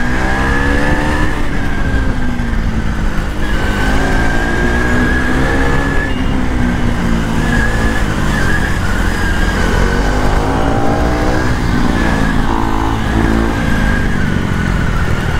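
Motorcycles, a 390 and a 250, racing each other on a road ride, engines revving loudly and continuously with rising and falling pitch close by throughout, with no talk.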